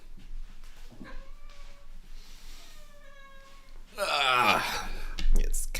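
A cat meows several times in a row, fairly close, the calls rising in a thin series before a louder, harsher cry near the end, with faint room noise and some breathy human sound around it.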